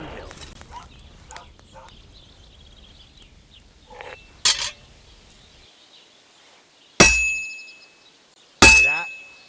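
Blacksmith's hammer striking hot metal on an anvil in Kingdom Come Deliverance 2, with a few faint clinks and scrapes before two loud, ringing metallic clangs that trail off near the end.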